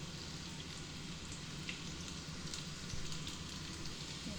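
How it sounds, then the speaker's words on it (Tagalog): Beef and carrots stir-frying in a hot pan, a steady dense sizzle with a soft crackle that holds constant throughout, close and moderately loud. "Tapos ihalo ko na yung ating beef na ini-stir fry."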